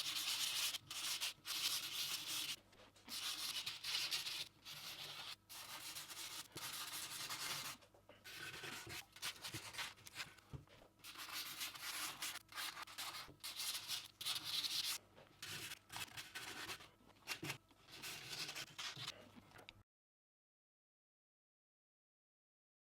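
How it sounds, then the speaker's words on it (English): Sandpaper rubbed by hand over a wooden electric guitar body, steady back-and-forth strokes with brief pauses, close and continuous for about twenty seconds, then silence. "when I sand it all back, it's gonna accentuate the grain quite nicely"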